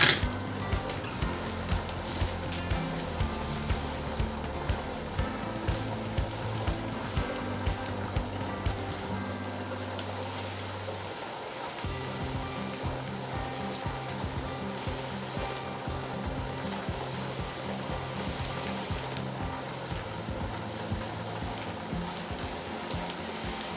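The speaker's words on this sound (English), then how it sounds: "this part of the steaming and the venting process is really important" A pressure canner vents steam while raw-pack beef stew cans, giving a steady continuous hiss with faint rhythmic ticking early on, no voices.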